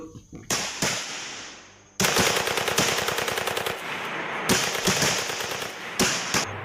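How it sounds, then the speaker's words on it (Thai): Rapid machine-gun bursts in a forest crack out in several volleys separated by short gaps, loud and sharp, with no voices. "เสียงปืนของข้าศึกดังสะท้านทั่วทั้งป่า"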